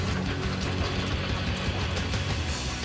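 Steady loud machinery noise from a bolt factory line straightening steel wire and feeding it into a cold forging machine, continuous mechanical clatter and ratcheting with no pauses.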